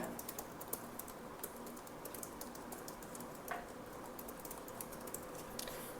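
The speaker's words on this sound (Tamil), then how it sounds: "நான் சும்மா வந்து என்னோடய மெயில் ஐடியை டைப் பண்ணுறேன்" Typing an email address on a computer keyboard: a steady run of light, quick key clicks continues throughout at low volume with faint background hiss and no voices.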